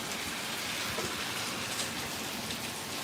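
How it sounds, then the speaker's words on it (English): A heavy monsoon downpour clearing up after a long drought in Las Vegas, an even hiss of rain pattering on surfaces, steady and moderately quiet throughout with no voices. "that was a nice downpour. Yeah, it's clearing up"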